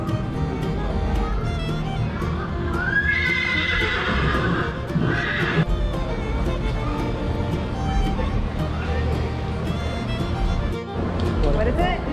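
A horse at a county fair whinnies clearly in the middle while hooves clop nearby, heard under ongoing talk from people close by.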